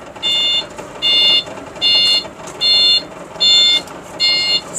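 A Ford car's alarm or signal sounds at a car market in Namangan, Uzbekistan. Six regular, evenly spaced electronic beeps, each about half a second long, come close and loud over a faint market murmur.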